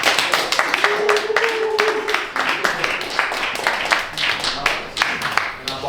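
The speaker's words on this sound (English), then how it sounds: "So let's clap it up for him." Audience clapping at a real estate mastermind meetup, a dense run of hand claps carrying on steadily for several seconds, with voices speaking faintly underneath.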